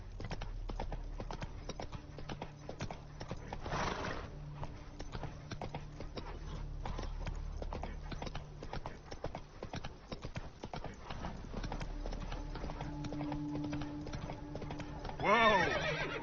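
Geralt's horse Roach in The Witcher 3 moves at a steady hoofbeat clip-clop, with a whinny near the end. Someone speaks briefly over the hooves.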